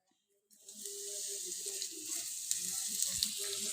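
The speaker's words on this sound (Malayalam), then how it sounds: "കടുക് പൊട്ടി തുടങ്ങി, അത് മൂത്തു, കറിയിലേക്ക് ഇടാം." Mustard seeds, green chillies and curry leaves frying in hot oil for a beetroot pachadi tempering, a sudden onset of loud continuous sizzling with scattered crackles and pops, close up and alone.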